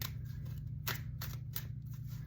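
A Nefertari tarot deck is given a quick shuffle: a few soft riffling and snapping bursts of cards, close and fairly quiet, over a low steady background hum.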